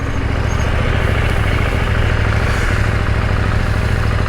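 A 2021 KTM 890 Duke R motorcycle engine runs with a loud, steady, close-up drone that rumbles continuously without clear revving changes or pauses.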